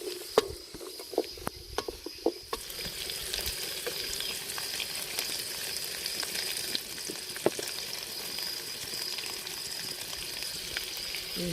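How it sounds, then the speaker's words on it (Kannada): Onions frying in oil over a wood-fire stove in an outdoor village kitchen, a soft steady sizzle with a few sharp clicks and scrapes of stirring early on, fairly quiet and close, no talk. "ಈರುಳ್ಳಿ ಇದೆಲ್ಲ ಸ್ವಲ್ಪ ಹುರ್ಕೋಬೇಕು ಎಣ್ಣೆಲಿ."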